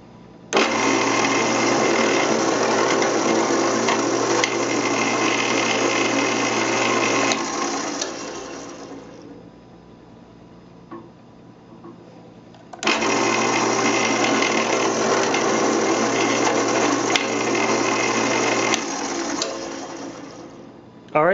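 A Procunier #2E tapping head runs threads into holes in two long bursts of steady mechanical whirring and clatter, with a short quieter pause between them.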